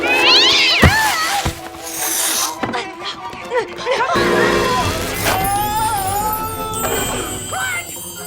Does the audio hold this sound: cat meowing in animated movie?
yes